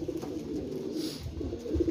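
Pigeons cooing nearby, several soft low throaty coos repeating in a loose rhythm over a faint background murmur.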